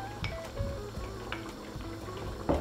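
Chicken curry with coriander stirred in a pan at home, giving soft scraping and light clinks of a utensil against the pan over a low sizzle, with a sharper knock at the end.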